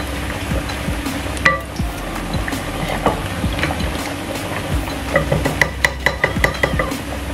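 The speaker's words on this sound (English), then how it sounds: "So I'm frying the samosa. I'm frying the chicken samosa." Chicken samosa frying in hot oil, a steady bubbling sizzle throughout with occasional sharp clinks of a spoon against the pan, loud and close, no voices.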